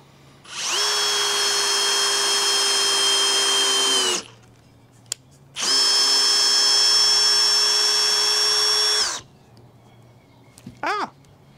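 A cordless brushless drill driver runs screws in without hammer mode, giving two sustained whining bursts of about four seconds each with a short pause between them, loud and close, with no talk.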